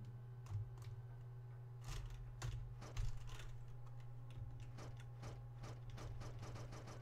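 Keys on a computer keyboard are tapped in quick, uneven bursts, light plastic clicks over a steady low electrical hum, with no one talking.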